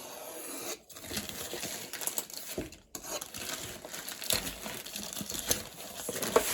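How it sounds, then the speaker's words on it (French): Plastic wrapping on a diamond painting prize package crinkles and tears open, a continuous close rustling with brief pauses and scattered sharper crackles, no talk over it. "Je vais ouvrir le plastique."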